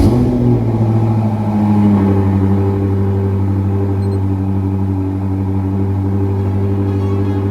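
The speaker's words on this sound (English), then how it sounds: "This is how a cold start sounds with the M5 with Akrapovic exhaust." A BMW F10 M5 with Akrapovic exhaust cold-starts into a loud, deep, steady elevated idle that settles slightly, heard close with no talk.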